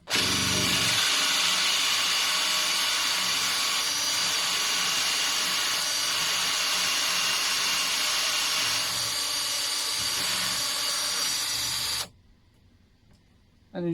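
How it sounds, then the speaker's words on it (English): A power drill bores steadily into an MDF kitchen door for about twelve seconds, a loud continuous whine close by, then stops abruptly. "Right, let's give this a drill."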